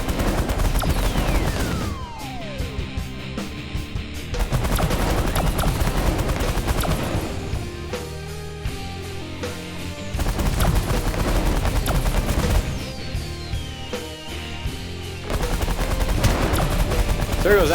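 Rapid weapons fire in the space strategy game The Last Federation, bursts of sharp repeated shots in several loud waves separated by brief quieter gaps.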